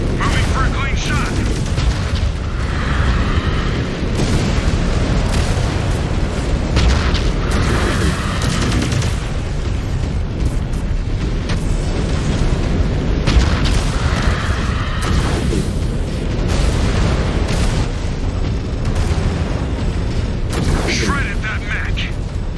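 Mech weapon fire and explosions in the video game MechWarrior 5 Clans form a loud, dense, continuous barrage of booms and blasts with a steady roar beneath, without a break.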